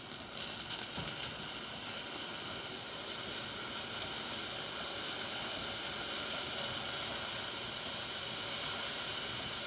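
Steam hisses steadily from the nozzle of a DeLonghi Magnifica XS espresso machine, a continuous broadband rush that holds for several seconds and slowly grows a little louder.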